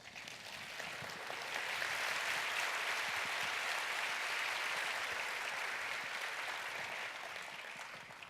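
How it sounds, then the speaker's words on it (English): A large audience at a trade association's annual convention gives a sustained round of applause, a dense, even wash of many hands clapping at once that swells slightly and holds steady throughout. "I think we owe them a round of applause"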